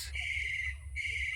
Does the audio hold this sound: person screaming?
no